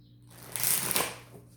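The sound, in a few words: tarot cards being shuffled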